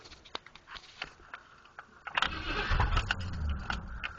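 Someone tries a cold start on a Firechief engine with the throttle cracked. Faint mechanical clicks come first, then a rough burst of cranking that does not catch and run.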